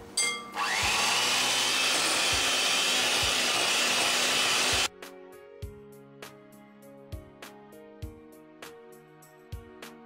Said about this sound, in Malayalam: എഗ് ബീറ്റർ കൊണ്ട് ഇത് നന്നായിട്ട്